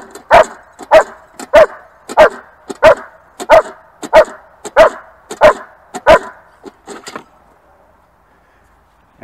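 During IGP bark-and-hold training with a ball machine, a dog barks loudly and close in a steady rhythm, about a dozen evenly spaced barks, before falling silent.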